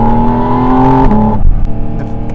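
A Porsche 718 Spyder RS with its naturally aspirated engine, loud and close, holding a high steady rev before the pitch drops away and the note falls back toward idle.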